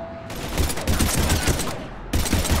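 Gunfire from the video game Mass Effect 3: loud, close, continuous automatic fire in rapid bursts, with one short break before a fresh burst resumes.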